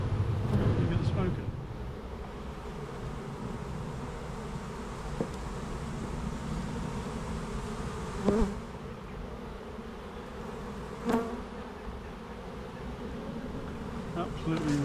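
Honeybees buzzing in a crowded, well-populated hive during an early-season inspection, a steady low hum throughout with wind and handling noise and a few soft knocks.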